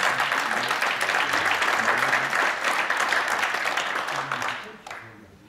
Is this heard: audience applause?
yes